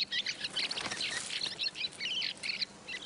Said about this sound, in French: Et elles font le bonheur des grives litornes, venues du Grand Nord pour hiverner.